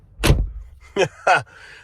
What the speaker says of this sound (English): just listen to how solid these doors shut.